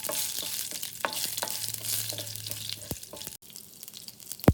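Urad dal frying in hot oil in a pan, with a steady soft sizzle and occasional light stirring scrapes and clinks, close and alone with no talk.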